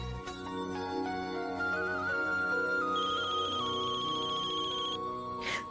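An electronic telephone ringtone plays a repeating melodic pattern, steady and moderately loud, with a higher chiming layer joining partway through and no talk.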